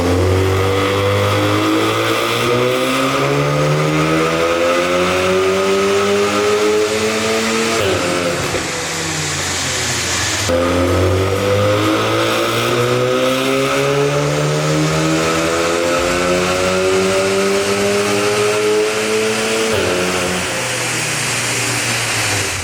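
A tuned 414 bhp Mk7.5 Golf R engine on a dyno revs hard and repeatedly, pitch climbing in long sweeping runs, with a brief drop between two sustained full-throttle pulls.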